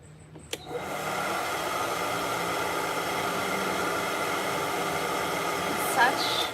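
After a short knock, a hair dryer switches on and blows on a cat with a steady, loud whoosh that continues to the end, with a small squeak near the finish.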